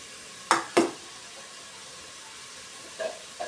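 Onions sautéing in a pan for a Kerala-style mutton curry: two quick scraping stirs close together, then a soft low sizzle, with one more faint stir near the end and no talking.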